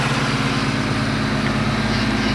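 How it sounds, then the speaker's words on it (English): A modified Police Interceptor engine holding a high idle, a steady low droning rumble with a constant even hum, close and fairly loud, no talking. "Well, it's still on high idle, but yeah, it went down a little bit."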